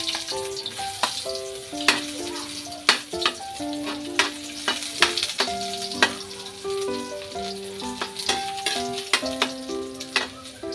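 Ginger sizzles in a hot pan for ginataang manok, a steady frying hiss cut by frequent sharp crackles and pops, while music plays underneath and no one speaks.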